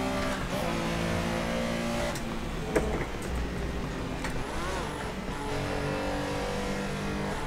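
Several Porsche Carrera Cup race cars in a sim racing game hold a steady, loud engine drone, with pitch rising and falling as they accelerate through the gears, and a brief sharp knock near the middle.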